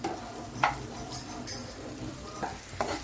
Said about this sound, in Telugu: కొద్దిగా క్యాబేజ్, ఉల్లిగడ్డ పొరక వేసుకుందాం. ఇది మొత్తం రెడ్గా అయ్యేదాకా ఫ్రై చేసుకుందాం.